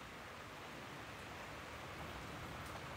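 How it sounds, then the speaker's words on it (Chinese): Steady rain falls outside a succulent greenhouse, a dense even hiss that holds unbroken and fairly faint throughout, with no voices. "你看它又下雨了"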